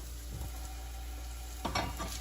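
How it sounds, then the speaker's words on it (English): Steady soft sizzle of an omelette frying in a pan, with a brief clatter of utensil movement near the end. "This is frying up very nicely."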